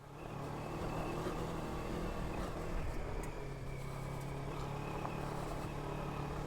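A Kawasaki KLE 500 motorcycle climbs a gravel trail, its engine holding a steady, moderately distant drone with a constant low hum and no clear revving.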